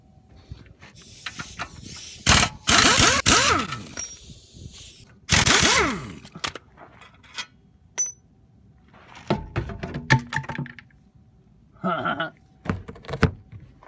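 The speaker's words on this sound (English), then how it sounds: "Take out these strut bolts." Strut bolts are being removed from a Ford Festiva: two long whirring power-tool bursts, each a second or more, come amid scattered metallic clicks, clanks and rattles, close and fairly loud, with no talking.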